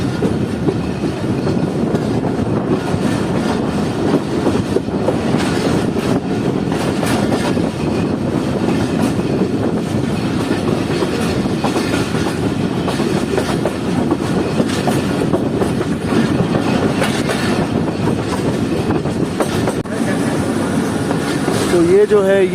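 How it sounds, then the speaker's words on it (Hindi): Jand Passenger train on the main line near the Attock City bypass track, a loud continuous rumble of carriages with rhythmic clickety-clack of wheels on rail, heard from inside the coach, with a voice talking over it at times. "हमारी ट्रेन इस वक्त मेन लाइन 2 पर चल चुकी है।"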